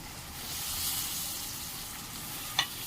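Prawns sizzle steadily in hot masala for a prawn curry, a soft continuous frying hiss with one brief sharp pop or clink near the end, no voices.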